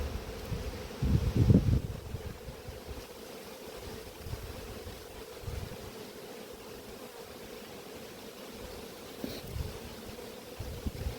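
Honeybees buzzing around an apiary hive, a constant low drone close by with some rustling and a louder burst near the start.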